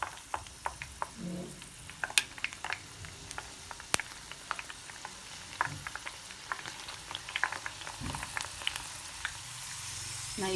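Chana dal fries in hot oil over a medium flame, giving a steady soft sizzle dotted with sharp crackles and pops, plus a few faint stirring scrapes.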